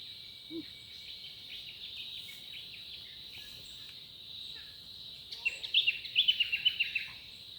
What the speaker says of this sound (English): just listening to the birds sing